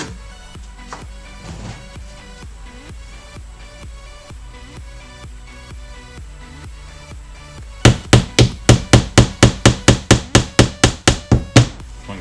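Nails are hammered into drywall while a metal storage shelf is installed: scattered lighter taps and knocks at first, then a loud close run of about fifteen sharp, evenly spaced hammer blows.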